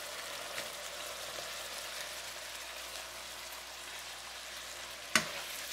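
Green onions sizzle softly in a pan with cherry cooking wine and vinegar for Chinese spicy pork belly, a steady faint frying hiss with one sharp clack near the end, no voices.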